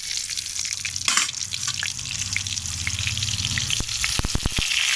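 Cauliflower pieces fry in hot oil in a pan, giving a constant crackling sizzle with a few sharp pops and clicks of utensils near the end. No one speaks.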